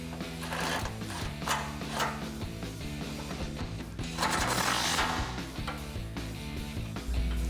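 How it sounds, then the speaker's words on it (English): A ratchet with a 17mm socket tightens a factory bolt on a Toyota Tacoma while a grille guard is installed, giving repeated quiet mechanical clicks in short bursts with a denser run near the middle; no speech. "We can tighten that up with that 17mm socket."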